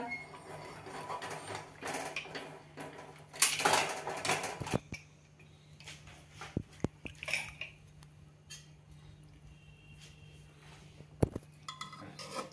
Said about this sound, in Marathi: प्रेशर उतरलेलं आहे। आता झाकण काढूया।